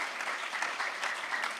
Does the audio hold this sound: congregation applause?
yes